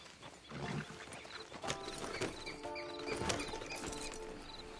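Horse hooves clip-clopping in Red Dead Redemption 2, a series of moderately loud, close hoof knocks over a steady bed of ambient game sound, with no talking.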